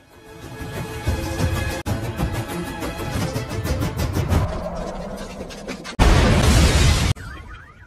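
A house explodes in a long roaring blast of crashing debris and crackling rubble, ending with a sudden loud burst of noise before fading.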